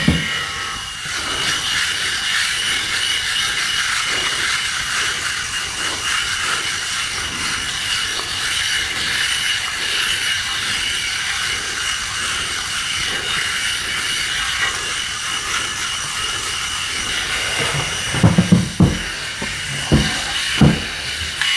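A Philips Shaver Pro 7000 electric head shaver runs steadily at close range with a continuous buzzing whir for about eighteen seconds, followed by a few brief bumps and handling knocks near the end.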